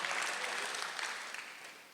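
A church congregation claps together during a Sunday worship sermon, a dense burst of applause that gradually fades toward the end.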